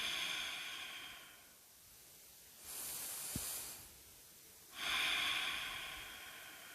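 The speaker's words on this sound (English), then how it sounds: "Breathing here." Slow, deep breaths during a yoga sun salutation: a long airy exhale, a pause, then another strong breath, close and alone, with a brief soft tap between them.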